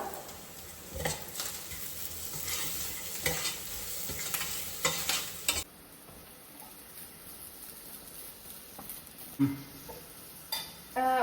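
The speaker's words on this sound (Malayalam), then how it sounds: "എന്നിട്ട് ഈ ജീരകവും തേങ്ങയും കൂടെ നന്നായിട്ട് വറുത്തെടുക്കുക" Cumin and grated coconut roast in hot oil in a pan for kappa biriyani. A spoon stirs and scrapes in close, irregular strokes over a soft sizzle, which drops quieter partway through before a few more scrapes.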